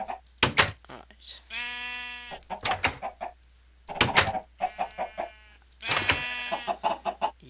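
Clucking chicken calls and bleating sheep sounds from a modded survival game farm, in several bursts with short gaps, fairly close and clear.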